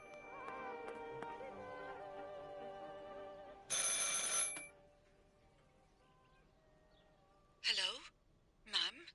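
A phone in the video game Martha Is Dead rings in three bursts, a long bright ring followed by two shorter ones, over a quiet, faintly musical background.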